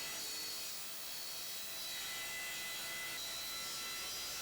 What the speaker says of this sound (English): And then I went to cut the taper using my shop-made tapering jig.